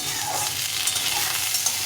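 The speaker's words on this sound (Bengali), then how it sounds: "প্রথমে এই আলু পটলটাকে ভালো করে ভেজে নিতে হবে" Potatoes and pointed gourd frying in a pan give a steady, close hiss of sizzling oil, with faint stirring scrapes, and no voice present.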